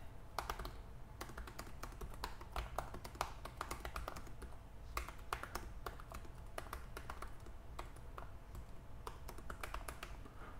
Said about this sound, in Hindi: उसके बाद वो साउंड निकल के आता है ना की प्रेस पे वो आप यहाँ पे सुन सकते हैं